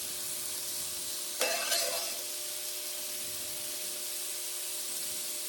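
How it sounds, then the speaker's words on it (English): Half an onion drops into a hot skillet, giving a sudden sizzle burst that settles into a steady, quiet frying hiss nearby. "I'm just going to add this half of an onion to my hot skillet."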